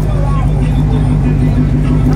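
A truck engine rumbles low and steady at a Westside Hood Day gathering in 2019. The close, loud drone runs without a break, with people talking over it.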